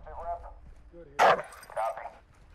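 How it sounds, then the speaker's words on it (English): A dog in Call of Duty: Modern Warfare 2, coming from a bedroom, gives a sharp, loud bark with a quieter second bark right after it. The barks are mixed with brief voices from the game. "It's the dog from the bedroom."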